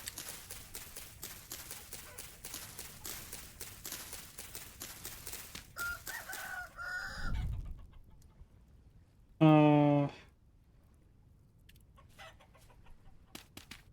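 Video game chickens cluck in short, repeated bursts, followed by one loud, sustained rooster-like call, with a few soft sounds after; no one talks.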